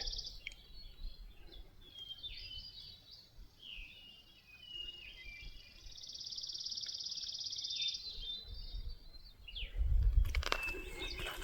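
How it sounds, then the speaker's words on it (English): A hermit thrush sings ethereal, flute-like phrases on a quiet outdoor hike, fairly distant and soft, with faint crunching steps below and a brief louder thump near the end. "you can definitely hear that hermit thrush now"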